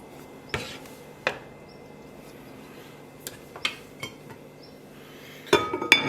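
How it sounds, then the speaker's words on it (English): Metal and lid clinks as a lid goes back onto a pot of ragu alla Bolognese left to simmer, a few sharp close knocks spaced apart, then a busier clatter at the end. "I'm going to go ahead and put back on the lid"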